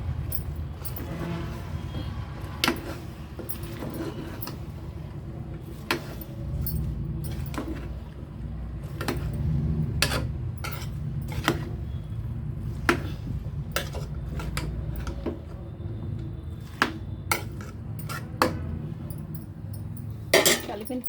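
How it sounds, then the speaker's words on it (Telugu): Greens curry (kalagapu koora) stirred in a pan with salt and chili, a steady low rumble of cooking under repeated sharp clinks and scrapes of a utensil against the metal pan, close and moderately loud. "ఇవన్నీ వేసిన తర్వాత ఈ విధంగా బాగా కలపాలండి"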